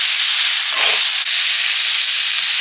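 Loud, steady hiss and sizzle as water and leafy greens go into a hot pan with lightly fried vegetables, a brief surge of bubbling near the start, then a constant close frying hiss throughout.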